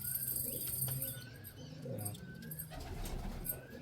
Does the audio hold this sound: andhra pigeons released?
yes